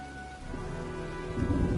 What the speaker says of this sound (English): looks like a storm's coming